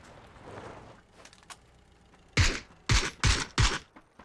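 Four sharp gunshots crack in quick succession in PUBG, loud and close, after a stretch of faint background rustling.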